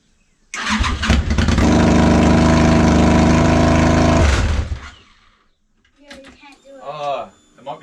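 Engine of a home-built reverse trike motorcycle revs loudly and steadily for about four seconds, close up, then cuts off, followed by people talking.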